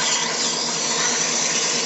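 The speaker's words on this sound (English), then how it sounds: "Get your sanding done." Sandpaper gripped in forceps sands the inside of a wooden toothpick holder spinning on a lathe, a steady, loud, continuous broadband hiss with no breaks throughout.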